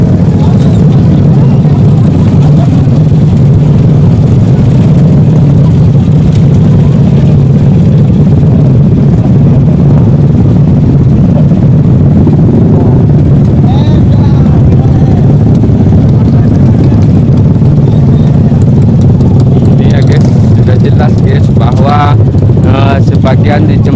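Motorbike engines rumble steadily in a traffic jam near a bridge on the way to Teluk Bayu beach as the bikes pass through one at a time, with wind buffeting the microphone and someone talking over the engine noise throughout.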